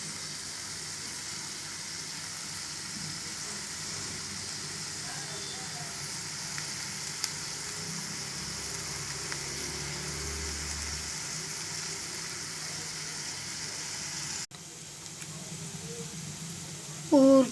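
Cabbage and potato curry fries in a pan with a continuous low sizzle while being stirred, steady and close, with a brief clunk near the end.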